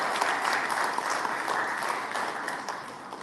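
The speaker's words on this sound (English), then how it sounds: "So everyone give her a round of applause." An audience at a Filipino Canadian community forum applauds steadily, a dense wash of clapping heard on its own at moderate volume from start to finish.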